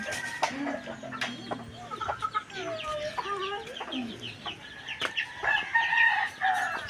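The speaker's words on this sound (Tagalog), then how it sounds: "Yung naglalaban po yatang manok." Hens squabble at a house in the morning, with a busy, close mix of agitated clucks, squawks and a crowing call overlapping across the whole stretch.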